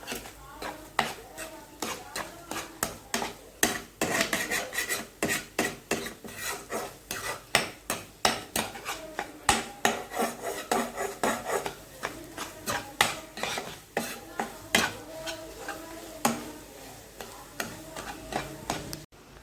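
Quick metal scraping and clinking against a pan repeats in a busy, uneven rhythm as eggs are stirred and mixed, close up, with no talking.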